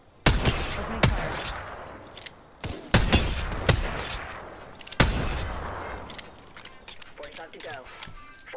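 Gunfire in the battle royale game Apex Legends: several sharp, loud shots in uneven bursts, with a final shot followed by fading echoes and a quieter background of game ambience.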